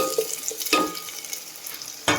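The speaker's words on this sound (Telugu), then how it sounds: "ఆలు కలుపుకోవాలి." Potatoes are stirred into khichdi in a pot, giving quiet, close scraping and mixing strokes over a faint sizzle, with a few brief bursts of stirring.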